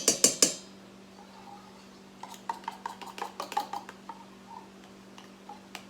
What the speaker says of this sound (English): So I'm just going to dump my condensed milk in my bowl.